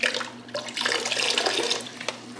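Bleach splashes into water for household cleaning, a close, continuous rushing pour with gurgling bubbles lasting a couple of seconds, alone without talk.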